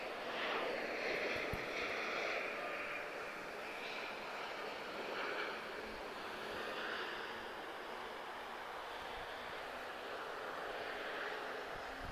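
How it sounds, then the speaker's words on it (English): A TAP Air Portugal Airbus A320 arriving at Lisbon Airport after a flight from São Vicente, heard as a steady, fairly distant broadband jet roar with airflow hiss that holds throughout. "TP1554, just arriving from São Vicente. It's an A320."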